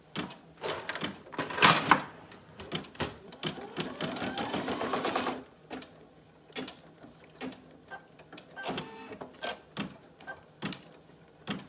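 A Brother PE800 embroidery machine stitches an in-the-hoop purse, giving a busy mechanical whir of clicking needle strokes that rises into a sustained run, then breaks into scattered taps and clunks.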